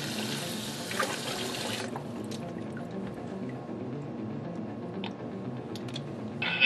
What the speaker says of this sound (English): Today we're going to run water over a CN4 and submerge it underwater.